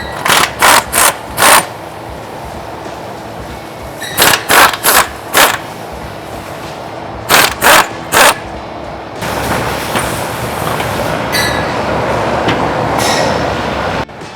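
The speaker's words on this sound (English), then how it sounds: "with a 15mm socket, we're going to generously loosen them up without removing the nuts" A ratchet with a 15mm socket loosens the exhaust nuts on a 2018-2023 Mustang GT, giving three close, loud bursts of rapid clicking, then a steady broadband rush.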